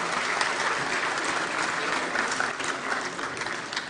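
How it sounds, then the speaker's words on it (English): An audience at an awards ceremony held at Vigyan Bhawan breaks into sustained, even applause, a dense wash of clapping that holds steady throughout at moderate loudness. "A thunderous round of applause, ladies and gentlemen."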